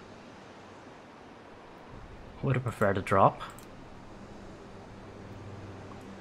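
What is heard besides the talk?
wind blowing on a mountain in the video game Valheim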